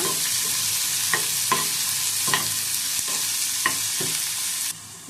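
Chopped onion and tomato sauté in a hot pan: a steady close sizzle runs throughout, broken by several sharp scraping stir strokes before the frying noise drops off near the end.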